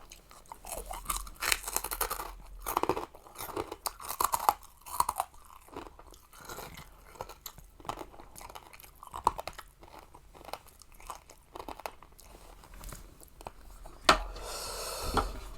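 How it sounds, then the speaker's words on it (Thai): Someone chews Thai khanom jeen rice noodles with pork rinds in fish-sauce dressing, producing close, quiet, irregular crunching and mouth sounds over about fifteen seconds without talk. "แคบหมูมันไม่ มันไม่กรอบเวลาเราเคี้ยวแล้ว"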